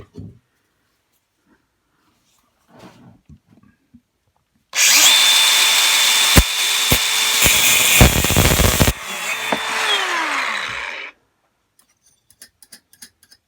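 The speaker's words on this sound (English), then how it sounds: "I decided to use a grinder in the end because it's just easier than the hacksaw." An angle grinder cuts off bolt threads on a 1976 Puch Maxi moped being restored. It is a loud, steady, high-pitched grinding whine lasting about six seconds, framed by a few quiet clicks and taps before and after.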